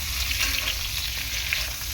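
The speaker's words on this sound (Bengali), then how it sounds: "পটলটা ভাজা হয়ে গিয়েছে, আমি আর বেশি ভাজবো না" Pointed gourd frying in a wok, a loud, dense continuous sizzle with light stirring scrapes throughout, no talking.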